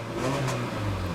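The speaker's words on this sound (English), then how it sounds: "I don't know if you guys can hear me revving the engine now" A damaged car's engine revs steadily up close, a low, rough mechanical drone that holds fairly constant for about a second.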